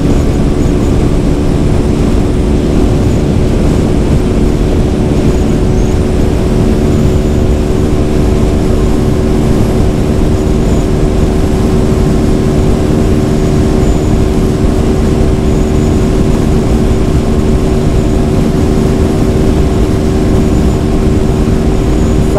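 A TVS Apache 200 motorcycle engine pulls hard and loud through the gears on a test ride, a steady dense roar with harmonic whine held throughout and no talking.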